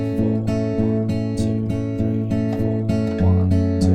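An acoustic guitar strums the last four chords of the verse of a song, played close and clear in a steady, even rhythm with sustained ringing chords and no voice.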